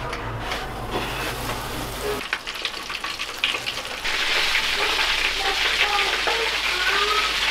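Homemade KFC-style chicken drumsticks, patted with flour, deep-fry in bubbling oil. A quieter stretch gives way to a loud, steady, close sizzle that continues to the end.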